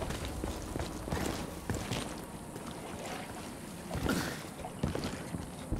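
A character swims in water in Sniper Ghost Warrior Contracts 2, producing soft, irregular watery sloshes and splashes over a faint windy background, fairly quiet throughout.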